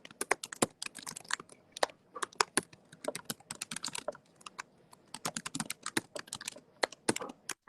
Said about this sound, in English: hear you typing away